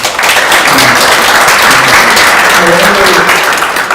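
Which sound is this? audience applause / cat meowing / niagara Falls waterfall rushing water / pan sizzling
audience applause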